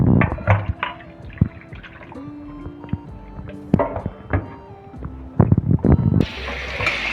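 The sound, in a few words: cooked ada poured into strainer with cold water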